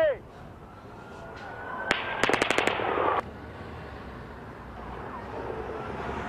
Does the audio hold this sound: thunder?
no